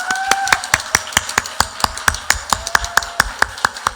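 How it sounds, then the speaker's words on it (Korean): A church congregation at a Wednesday worship service clapping in a steady, even rhythm, sharp close claps repeating about four or five times a second without any voices. "박수 한번 쳐주십시오."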